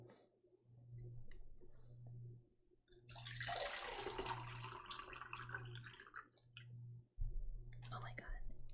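Water is poured or sipped close to the microphone during a whispered ASMR session, a soft rushing splash lasting several seconds over a steady low hum, with whispering around it.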